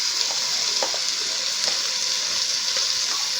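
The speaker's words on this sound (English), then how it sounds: "I'm going to continue stirring, ensuring that I don't burn it." Onions frying without oil in a pan for chicken stew, stirred with a steady bright sizzle and soft scraping strokes, close and continuous, no talking.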